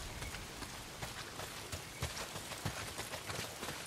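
Steady rain in the video game Days Gone, a dense continuous patter with scattered louder drops and no voices.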